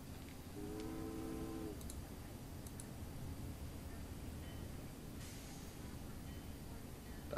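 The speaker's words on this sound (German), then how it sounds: "Verdammt, der Zug fährt los." Train pulling away in the video game Geheimakte Tunguska, a short horn-like tonal blast near the start over steady rumbling rail noise that continues throughout, with faint clanks later.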